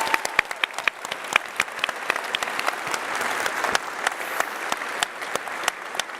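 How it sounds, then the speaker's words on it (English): A Labour Party conference audience applauds, a dense, steady round of clapping with sharp individual claps standing out, loud and sustained without talk. "Give yourselves a massive round of applause to the Labour movement"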